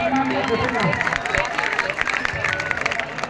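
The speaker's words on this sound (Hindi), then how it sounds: "एक बार जोरदार ताली से" An audience breaks into loud, sustained clapping and cheering at a live stage event, a dense wash of many hands that continues steadily throughout with crowd noise mixed in.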